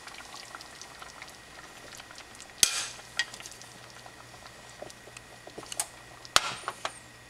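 A beaten egg is stirred into tomato soup in a pot, a soft liquid bubbling and stirring texture with a few sharp utensil clinks against the pot, fairly quiet and close.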